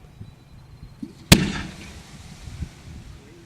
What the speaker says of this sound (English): Now we're going to do a flower pot. It's going to look like a mine. It's just going to blow stars out of the mortar.